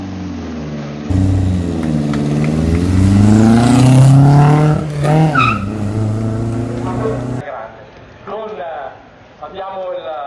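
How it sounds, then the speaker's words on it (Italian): A 1969 Porsche 914/6 rally car's six-cylinder engine fires and revs hard in rising and falling sweeps, then settles to choppier blips. The sound is loud and close, with someone talking over it. "facciamo partire questa meravigliosa Porsche. Questo è un Porsche 914/6 cilindri 69"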